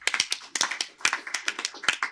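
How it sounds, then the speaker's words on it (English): Sparse applause at a seminar on extractives and economic diversification in Africa, a few people clapping close by in uneven, distinct individual claps rather than a full ovation. "Can we give him a round of applause, please?"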